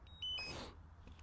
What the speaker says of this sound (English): the controller is beeping